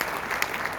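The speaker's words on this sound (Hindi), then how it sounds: "एक बार चाहता हूँ तालियां शैलेश जी के लिए।" A brief burst of dense clapping from a seminar audience at a Modicare recognition event, a continuous crowd applause heard up close for under a second.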